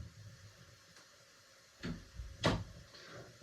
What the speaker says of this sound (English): I shut the door to my guitar studio